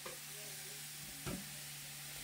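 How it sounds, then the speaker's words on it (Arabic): Apples frying in ghee, heard as a faint, even sizzle with a single soft stirring knock partway through, quiet and close with no speech. "اقلب اقلب، بضل اقلب فيه لحتى ياخذ لون."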